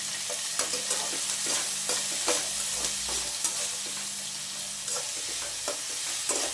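Potatoes and onions with curry leaves frying in oil for a village-style bitter gourd gojju, a steady close sizzle broken by repeated scraping stirs, with no talking.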